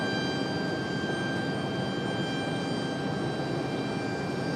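A Republic Airways airliner departing Raleigh-Durham International Airport, heard as a steady, broad jet engine roar with high tonal whine, continuous and fairly distant, no talk.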